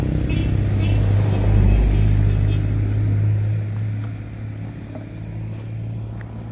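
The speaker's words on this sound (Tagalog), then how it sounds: "Merong nagpapihit na school bus." A school bus turning around on a roadside, its engine giving a loud, close low rumble that swells, then eases and fades slightly as the vehicle manoeuvres, with no talk over it.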